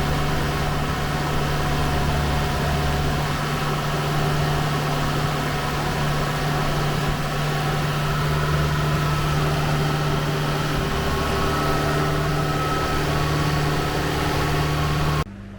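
A car engine idles high while being mapped, holding a steady, continuous hum and drone throughout with no talking.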